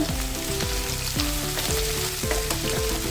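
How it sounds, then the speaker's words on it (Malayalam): Onion and green chilies sautéing in coconut oil in a pan, a dense continuous sizzle punctuated by rhythmic scraping strokes of a stirring spoon. "ആദ്യം സവോളയും പച്ചമുളകും ഇട്ട് കൊടുക്കാം എന്നിട്ട് കുറച്ച് നേരം ഒന്ന് ഇളക്കി കൊടുക്കാം"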